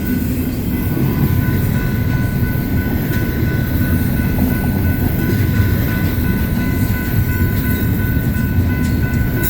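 A BNSF intermodal freight train passes close by in Colorado Springs, giving a loud, continuous roar and rumble of wheels on track with faint clatter throughout and no voices.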